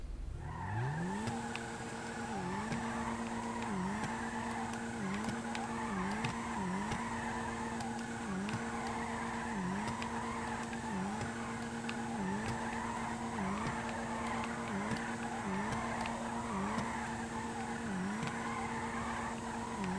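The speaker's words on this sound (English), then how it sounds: "let's say we're drifting kind of slower at a slower pace like this" Car drifting in a racing video game, engine note rising and falling in regular repeated cycles with tire squeal layered on top, loud and steady without any talk.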